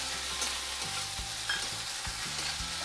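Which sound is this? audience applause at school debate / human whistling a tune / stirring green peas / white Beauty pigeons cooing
stirring green peas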